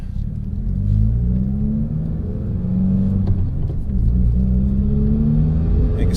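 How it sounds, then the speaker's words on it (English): A 2020 Subaru WRX with a heat-wrapped turbo setup idles with a deep, steady exhaust rumble, holding a low drone throughout with slight swells in engine note, no talking over it. "it's definitely a more deeper tone to the car, especially when I'm just sitting there"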